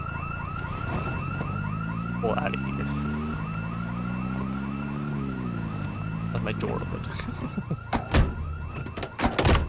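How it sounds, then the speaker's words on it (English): Sirens wail in a repeating rising-and-falling pattern inside a video game, loud and continuous beside a steady alarm tone, with someone talking over them and sharp game impacts toward the end. "Oh, that's an alarm."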